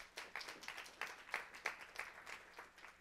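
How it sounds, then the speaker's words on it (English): An audience at a student startup pitch finale applauds a competition judge with a short burst of scattered, fairly distant clapping that rises and fades over a few seconds. "Let's give her a round of applause."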